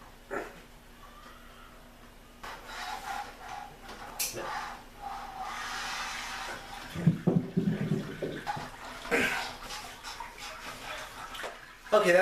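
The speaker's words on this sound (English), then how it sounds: "let the the mash drain the wort into the kettle" Wort from a milk stout mash drains into the brew kettle as a running, splashing water flow that swells and fades, with a person speaking intermittently over it.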